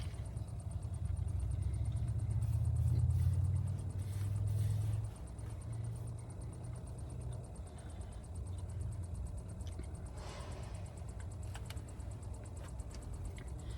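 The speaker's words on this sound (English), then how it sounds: "Thought a big truck pulled into where I am." A big truck pulls in nearby on an empty field, a deep low engine rumble that swells loudest over the first five seconds, then settles into a steadier, quieter idle-like drone with no talking.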